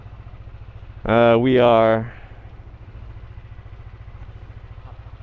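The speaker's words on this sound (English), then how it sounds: "you get to see me start my bike" A motorcycle idles steadily with a low, even engine rumble, ridden in the Philippines, while someone speaks briefly over it near the start.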